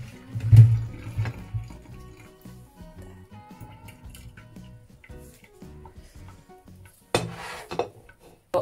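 Water from boiled cassava pours and splashes into a kitchen sink while draining, with clanks of a pot and dishes and a louder gush near the end.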